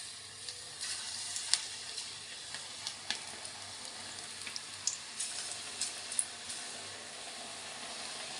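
Pakodi fritters frying in hot oil give a steady, close sizzle with scattered small pops and crackles throughout, with no talking.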